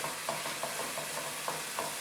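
A steady sizzle from a pan of masala in a Punjabi dal makhani dish, with soft, irregular stirring scrapes as kasuri methi leaves are dropped in, close and alone with no talk.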